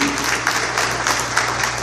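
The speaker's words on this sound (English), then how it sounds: "give us a round of applause for Senator Connie Johnson" Audience applause for Senator Connie Johnson as she is called up to the mic at a testimony event, steady dense clapping filling the room with a low hum underneath.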